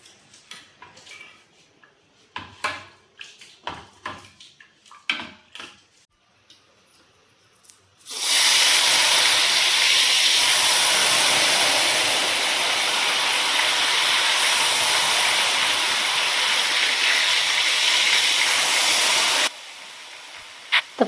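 Ghevar batter hisses and sizzles loudly in very hot oil after a few scattered clicks and taps, a dense steady frying roar lasting about eleven seconds before stopping abruptly.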